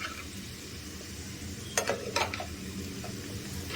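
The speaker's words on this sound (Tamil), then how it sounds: "சிம்லேயே வச்சு இந்த பபுள்ஸ் எல்லாம் அடங்கணும்." Mutton curry simmering in a pan for mutton kola urundai, a low steady bubbling and sizzling bed with a few brief stirring or spoon scrapes in the middle, fairly quiet and close, no talk.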